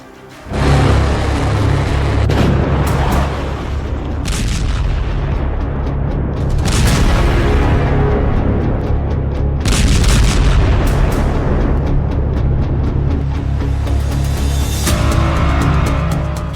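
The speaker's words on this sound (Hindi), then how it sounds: "इजराइल बम मारता जा रहा है।" Bomb blasts in a war zone under Israeli bombardment: loud, sustained rumbling booms with several sharp new impacts, heavy and close, continuing without a break.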